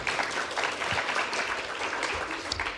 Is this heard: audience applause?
yes